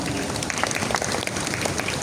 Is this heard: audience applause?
yes